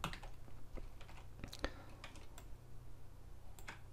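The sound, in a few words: pressing keyboard shortcut keys in Photoshop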